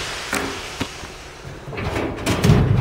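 A right-side, non-locking drawer of a Kennedy 4400MP tool cabinet rattles and rolls open with a few light clicks and a louder sliding rumble at the end, close and alone.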